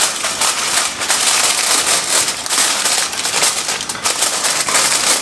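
Aluminium foil crinkles and crunches as it is pressed over a dish of curd pudding, giving close, continuous crackling with bursts of sharper rustles.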